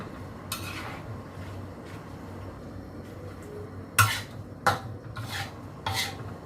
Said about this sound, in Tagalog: Kinalo-halo ko yan siya kasi kailangan mo talagang haluin.